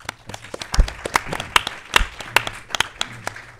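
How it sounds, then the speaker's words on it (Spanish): Audience applause welcoming a speaker at a public talk on media profiles of power, sparse, distinct claps from a small crowd, some sharp and close, irregular over a few seconds. "vamos a recibirlo con un aplauso también"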